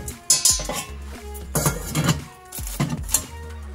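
Pieces of a Gotham Steel nonstick ceramic copper cookware set are handled, with a small pot and its lid knocked together in a run of sharp metallic clanks and clinks, loud and close with short pauses between.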